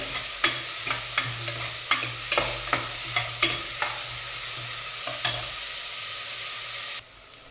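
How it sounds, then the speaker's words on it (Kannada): Onions fry in a hot pan while a utensil scrapes and stirs them, about a dozen sharp, close clinks over a constant soft sizzle that cuts off near the end. "ಈರುಳ್ಳಿ ಚೆನ್ನಾಗಿ ಫ್ರೈ ಆಗಲಿ."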